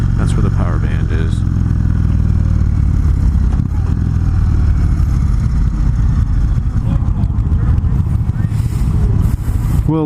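An Indian Chief Classic motorcycle engine runs loudly throughout, its pitch rising and falling as the throttle revs and eases, with rattling clatter over the steady drone.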